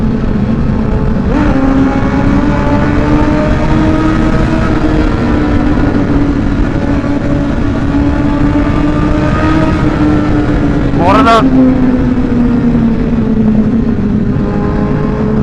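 A Honda CBR1000RR with an aftermarket exhaust revs and accelerates through a road tunnel, a loud, steady engine roar with rising and falling pitch and a sharp high rev burst near the end, with a brief spoken remark over it.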